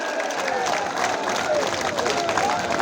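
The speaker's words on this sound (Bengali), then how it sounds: "দূরে করতালি দিয়ে দেখাই দেন দূরে করতালি দেন" A crowd at a BNP political rally in Chuadanga, Bangladesh claps steadily in a dense, continuous wash of applause with some cheering mixed in.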